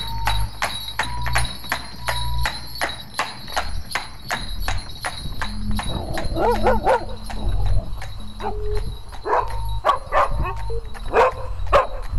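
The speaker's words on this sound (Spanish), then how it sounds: "pasó sin inmutarse por delante del gran perro guardián de la entrada que se echó a ladrar" A large guard dog at an entrance barks repeatedly in a rhythmic series of loud, close barks in a radio drama, with horse hooves clip-clopping and faint whimpers later under the barking.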